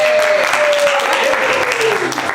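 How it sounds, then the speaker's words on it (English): An audience at an improv comedy show claps and cheers in a loud, steady burst of applause that fills the room, with a voice carrying over it. "Big round of applause for Jay and Bobby"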